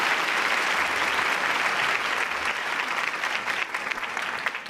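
Applause welcoming the education minister at a ceremony, a dense and sustained round of clapping from a large crowd, loud and even from start to finish.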